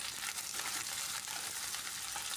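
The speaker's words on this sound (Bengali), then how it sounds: "এবার পেঁয়াজগুলো আমি সরাসরি তেলের ভেতরে দিয়ে দেবো" Chopped onions fry in hot oil for a gondhoraj lemon chicken curry, a soft, even hiss and crackle heard close but fairly quiet, with no speech.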